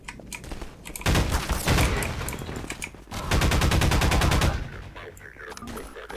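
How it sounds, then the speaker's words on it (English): An automatic weapon in Half-Life 2 fires long, loud, rapid bursts, with a short burst first and then a longer sustained stream of shots, separated by quieter in-game ambience. "Hooray, seasickness gun. Those are always good fun. Automatic fire"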